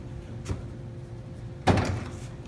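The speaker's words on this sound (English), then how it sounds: "Now, opening these double doors." The rear double doors of a Mercedes Sprinter camper van open: one thuds open with a soft knock, then a louder clunk and rattle as the second swings wide, against a low steady hum.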